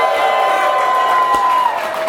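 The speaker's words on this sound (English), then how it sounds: "we have an absolutely amazing crowd, as you heard them here" A conference crowd at the EntreLeadership Summit 2017 cheers and applauds in a loud, steady roar that fills the whole moment without letting up.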